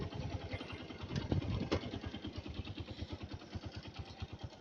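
A motorcycle engine idles close by on a foggy winter morning in a village, a steady run of rapid, even low pulses with a brief rise in clatter near the start.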